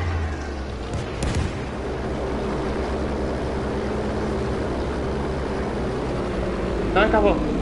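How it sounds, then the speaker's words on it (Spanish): Warplane armed with an anti-tank cannon in Battlefield V, a rumbling engine drone with a couple of heavy thumps early and a rising whine near the end, loud and continuous. "Hay un avión que tiene un cañón antitanque."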